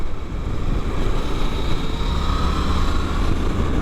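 A Suzuki GSX-8R motorcycle ridden in a tall gear with short shifting, a steady loud low engine drone and wind rush that holds even throughout, with no talk.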